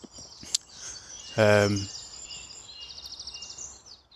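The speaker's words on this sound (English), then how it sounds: "That's a very unusual bird call, my goodness." A single strange, harsh bird call rings out sharply for a moment amid quiet outdoor ambience, with faint insect-like chirping and a click beforehand.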